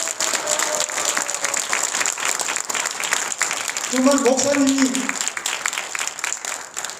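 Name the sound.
church congregation applauding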